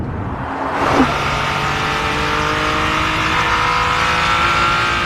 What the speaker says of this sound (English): You don't hear much of the turbos, they're just slightly there, and the sound of that V6 is just okay.